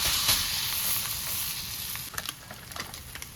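Bottle gourd dhapate batter sizzling in hot oil on a pan, a steady close hiss and crackle that settles into softer pops and spatters.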